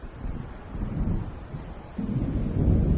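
Low, continuous rumbling thunder from an approaching storm in Alan Wake, a heavy, muffled roll that swells and surges louder toward the end, with no voices.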